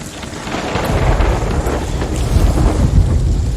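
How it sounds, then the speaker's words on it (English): Heavy rumbling thunder rolls under steady rain and wind during a storm in the Sea of Thieves video game, loud and continuous without a sharp strike, and no one is talking. "I believe I was just struck by lightning again"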